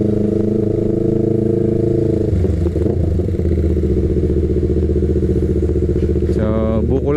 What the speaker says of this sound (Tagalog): Sarap pa naman ipigaan ng throttle natin ngayon guys